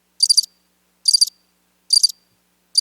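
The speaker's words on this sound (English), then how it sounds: "crickets." Crickets chirp as a sound effect in four evenly spaced short trilled bursts, each about a quarter second long, clear and isolated against silence.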